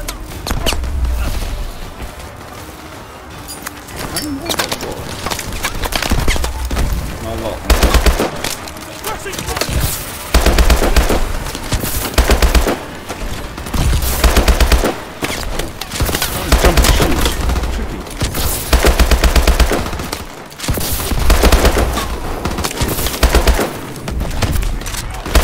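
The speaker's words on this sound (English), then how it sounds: "I'm really gonna shoot." Gunfire in Call of Duty Advanced Warfare, repeated bursts of automatic weapon fire and heavy shots in loud clusters, with someone talking at times amid the shooting.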